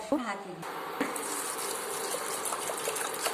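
Water gushes into a metal pressure cooker, a steady splashing pour lasting a few seconds after a brief clank at the start.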